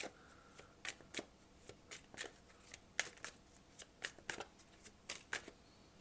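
Tarot cards are shuffled and drawn with quiet, crisp riffles and flicks, about twenty short snaps in an irregular rhythm, close and faint with no talking.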